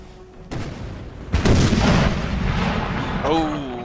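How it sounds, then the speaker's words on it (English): Artillery cannons firing in Imperial Splendour, a Napoleonic-era strategy game: sharp booms in quick succession with rumbling echoes, loud and close, with a voice briefly heard. "Tell the artillery to fire at will. They should be ready with their guns."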